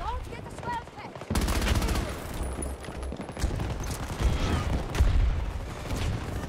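Rapid automatic gunfire from a sentry gun in Battlefield 2042, loud bursts rattling continuously after a brief opening lull, mixed with other battle noise and a player's voice.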